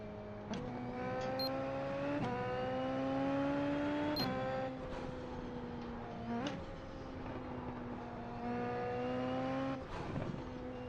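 A NASCAR race car in a racing video game at Bristol, a six-gear car, holds a steady loud engine drone that rises through several upshifts with brief breaks between gears.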